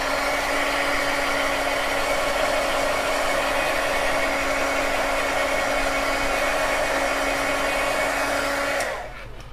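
A heat tool drying ink on a Halloween flash card blows as a steady, loud, close whirring roar that holds for about nine seconds, then cuts off at the end.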